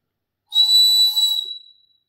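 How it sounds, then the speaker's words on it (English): A small souvenir toy bird from Benidorm gives one loud, shrill, steady whistle lasting about a second before trailing off. "there was a guy selling these wee birds doing the most annoying noise in the world"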